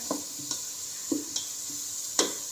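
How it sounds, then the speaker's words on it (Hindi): Onions frying in a pan until browned, with a handful of sharp stirring scrapes and brief sizzling bursts spaced irregularly over a soft background hiss, close and fairly quiet, no talking. "प्याज हमारा ये देखिए ब्राउन हो चुका है"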